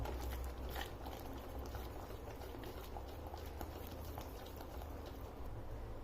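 A thick mixture of milk, water and mango for halwa bubbles and simmers close by, with soft rapid plopping and a faint scraping as it is stirred continuously.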